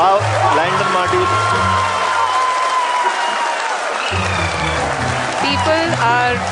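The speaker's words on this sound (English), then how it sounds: "People are applauding." A crowd applauds and cheers in a large hall while a space agency lander mission is followed on screen. The clapping is dense and continuous, with voices and a brief announcement-like tone under it.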